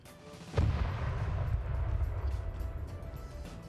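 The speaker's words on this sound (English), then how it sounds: "We just continuously hear cannons going off" Cannon fire in a military multiplayer match, NATO versus USA in winter, with one sharp boom followed by a rolling, rumbling tail of distant battlefield noise.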